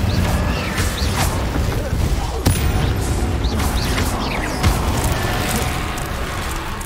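Spellcasting in Hogwarts Legacy: the Incendio fire spell crackles and bursts over a loud, dense game soundscape, with sharp impacts near 2.5 and 4.7 seconds amid continuous rumbling and whooshing effects.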